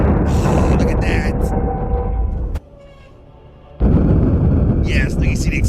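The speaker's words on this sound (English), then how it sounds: "you see the explosion" An explosion from a pressure line blowing out gives a loud booming, roaring burst, then cuts to quieter sound before another heavy roar returns, with people reacting in speech over it.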